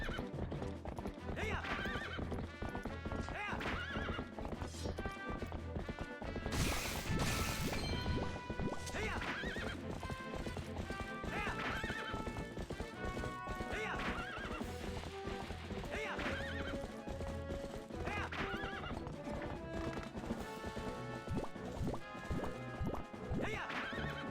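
Rhythmic clip-clop of galloping hooves with a loud horse whinny partway through, over a busy game soundtrack of music and effects, from a horse in The Legend of Zelda: Twilight Princess HD.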